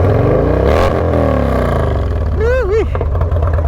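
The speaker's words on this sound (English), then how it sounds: "This exhaust though." An Indian Chief motorcycle's exhaust rumbles deep and loud close by, its pitch wavering as the throttle is blipped, while a voice briefly cuts in over it.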